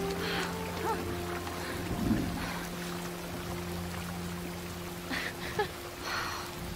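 Rain falls steadily in an animated wilderness scene, a soft, continuous wash with scattered louder bursts, under a low sustained tone.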